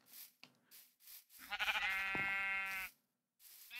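Sheep bleating in the video game TerraFirmaCraft, a single drawn-out wavering bleat heard clearly and alone after a few soft background blips.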